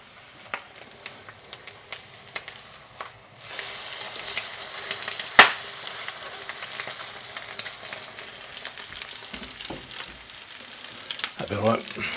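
Bacon and eggs frying in a pan, a soft steady sizzle that starts about three seconds in and continues, with occasional utensil clicks and a sharp tap midway.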